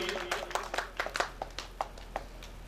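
An audience claps at a Shrimad Bhagwat Katha religious gathering, with scattered, fairly quiet individual claps rather than a full loud ovation, heard at a moderate distance.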